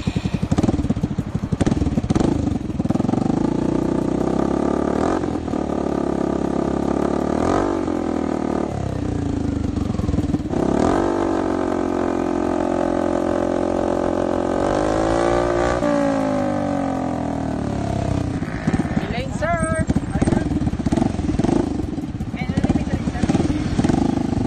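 A loud 2021 Motorstar Easy Ride 150N motorcycle engine with a carbon muffler revs repeatedly up and down close by, its exhaust roaring and crackling throughout.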